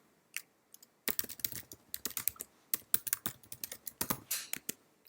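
Fast, uneven clatter of typing on a computer keyboard while registration details are entered, close and clear, with a brief early tap then dense bursts of keystrokes continuing to the end.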